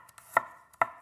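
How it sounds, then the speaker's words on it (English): Garlic chopped with a knife on a cutting board while cooking a creamy spinach fish dish, two crisp knife strikes close up with a quiet pause between, no talking. "Chopping up some garlic."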